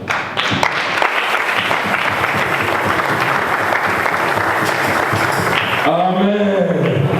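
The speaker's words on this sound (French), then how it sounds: "On acclame la parole de Dieu." A church congregation applauds to acclaim the word of God during a revival service, a dense, sustained wash of clapping from many hands, loud and steady throughout, ending with a brief voice rising at the close.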